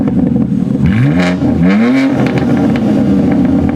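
A BMW G80 M3 exhaust with the valves open blips twice in quick succession, sharp rising revs over a loud, rumbling idle, heard up close with no speech.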